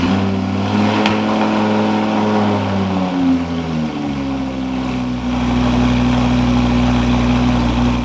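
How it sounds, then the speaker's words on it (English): Supercar fitted with a Fab Speed Valvetronic titanium exhaust, its engine running close by, settling from a rev into a steady idle with a deep drone and a rising whining tone. "The previous owner also put on this Fab Speed Valvetronic titanium exhaust that"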